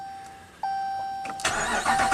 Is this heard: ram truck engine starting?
yes